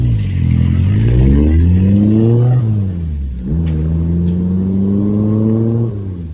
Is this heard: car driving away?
yes